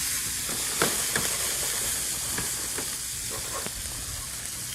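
About two ounces of shrimp dropped into a hot pan at a restaurant kitchen, giving a steady loud sizzle with a few sharp crackling bursts and stirring scrapes, no talking.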